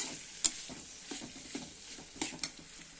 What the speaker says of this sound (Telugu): దొండకాయ ఫ్రై అయితే రెడీ అవుతుంది